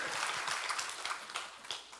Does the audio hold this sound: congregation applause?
yes